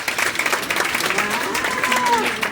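A cruise ship game show audience on the Regal Princess claps together in a dense burst of applause, while a few voices murmur and call out over the clapping.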